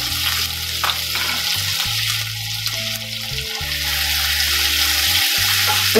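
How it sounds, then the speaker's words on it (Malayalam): Mustard seeds spluttering in hot coconut oil for a Kerala-style green peas curry: a steady, close frying sizzle with scattered pops that grows slightly louder, over a low steady hum. "ഞാൻ കടുക് ഇട്ട് കൊടുക്കാം."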